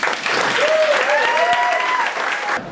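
An audience applauds comedian Ron Farnham at a comedy show, a burst of steady clapping that fills the room and then stops abruptly, while a brief whistle-like tone rises and falls through it.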